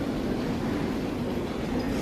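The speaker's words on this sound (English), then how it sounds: "So train is ready." A GWR train stands at a station platform, its low steady rumble and hum filling the air continuously with no talk.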